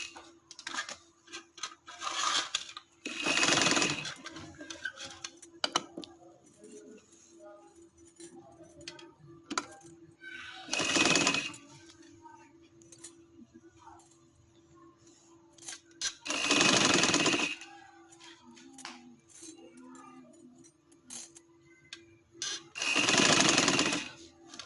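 An electric sewing machine stitches the side seam of a black trouser in four loud bursts spaced several seconds apart, with quiet rustling of fabric and handling between them.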